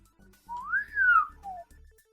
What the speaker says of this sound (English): there are quite a large number of bleeps and bloops that seem to follow me around